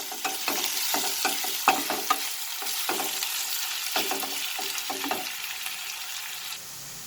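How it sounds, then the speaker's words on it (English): Onions frying in a pan for a chicken curry with potato and peas, a continuous sizzle broken by clattering stirs of a spoon, close and steady, fading to a softer sizzle near the end. "I will cook this onion till it becomes slightly transparent"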